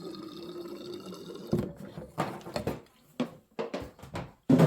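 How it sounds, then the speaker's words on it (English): Fuel poured into the tank of an old auction chainsaw with a leaking fuel system, a soft steady trickle followed by a few close gurgling splashes and brief knocks. "Okay, put some fuel in here."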